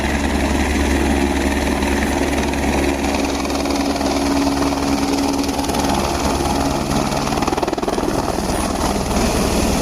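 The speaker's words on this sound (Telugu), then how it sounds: "హెలీప్యాడ్లో హెలికాప్టర్ దిగుతోంది చూడండి" A helicopter roars close by, its rotor and engine producing a loud, continuous whirring drone throughout as it comes down to land on a helipad at Kedarnath.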